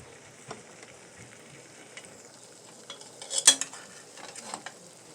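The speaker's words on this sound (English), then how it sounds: "So we're stirring that butter around with that flour." Butter and flour stirred in a pan, a soft, steady sizzle with scraping strokes and a brief sharp clink of a utensil against the pan partway through.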